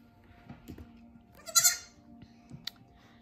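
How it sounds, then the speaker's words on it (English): A baby goat, just brought indoors from outside with its mother, gives one loud, close bleat over a quiet room with soft shuffling. A fainter short cry follows. "Now the little goat's kind of noisy"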